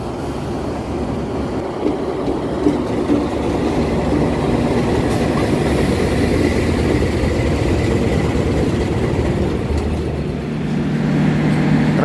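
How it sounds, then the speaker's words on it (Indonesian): The Pangandaran train rumbles steadily past at close range arriving at a station, wheels clattering on the rails under a constant heavy roar of engine and carriages. "Kereta api Pangandaran masuk"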